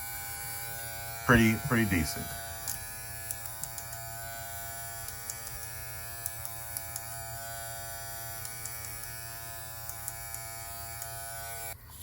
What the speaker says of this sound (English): And they're definitely not the loudest clipper